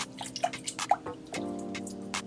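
Earth's Own So Fresh oat milk is poured into a glass already holding ice for a jackfruit banana smoothie: a few close dripping splashes, then a steady pouring stream that runs to the end.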